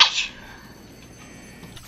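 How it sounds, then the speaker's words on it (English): One short, sharp sneeze right at the start, close and loud, followed by quiet background hum. "Why am I sneezing so much today?"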